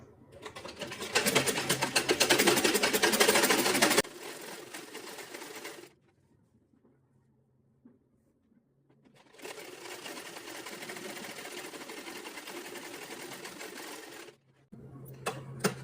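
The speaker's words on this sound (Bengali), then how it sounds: "এখন নিচের অংশটাকে এভাবে সেলাই করে নেব।" A sewing machine stitches the hem of a salwar in two loud, steady runs of rapid mechanical whirring, separated by a short quiet pause.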